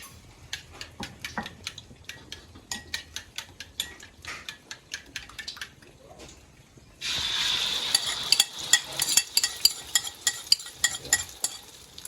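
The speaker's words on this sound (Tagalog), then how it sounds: "Ngayon, ipapride natin siya. Lagyan natin ng kanin." Rice frying with onion and garlic in a pan, a run of quick rhythmic scraping taps from a ladle, then a loud bright sizzle bursts in and continues under more stirring clatter.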